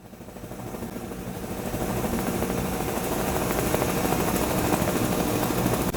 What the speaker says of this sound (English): The medevac chopper whirls lower into Bagram, and dust billows from the concrete tarmac.